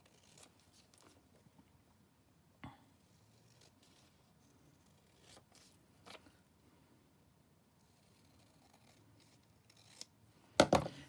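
Scissors cut magazine paper in scattered quiet snips over a near-silent background, ending in a louder burst of close crisp cutting at the very end.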